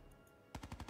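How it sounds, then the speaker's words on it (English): Rapid burst of automatic gunfire from the shooter game Black Ops 4, starting abruptly after a quiet stretch with a tight run of loud, evenly spaced shots close up. "A lot of bullets."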